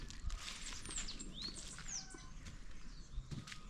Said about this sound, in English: You hear a lot of birds chirping around here